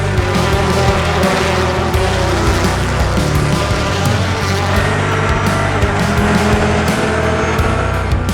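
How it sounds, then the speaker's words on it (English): Touring race cars in a BTCC race at Brands Hatch roar past in a loud, continuous pack, engines blaring and shifting with some tire noise, with no voices over it. "That's Sutton losing out to Epps as well, and here comes Goff on the inside."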